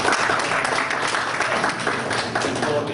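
An audience at an academic physics seminar applauds steadily, a dense even wash of many hands clapping at constant loudness throughout.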